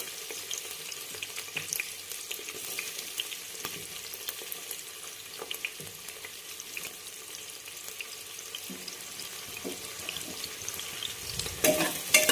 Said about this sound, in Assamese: গৰম হোৱাৰ লগে পিঁয়াজ দি দিছোঁ।